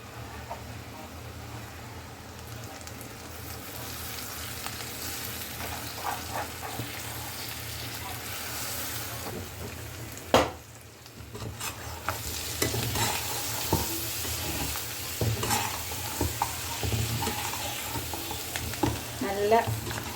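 Food fries in hot oil while a utensil stirs and scrapes it, a steady close sizzle with intermittent clattering and one sharp knock midway, running continuously for the whole stretch.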